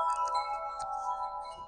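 A small aluminium wind chime rings with sustained, overlapping metallic tones, quiet and close, with light clinks of the tubes striking one another scattered across the ringing.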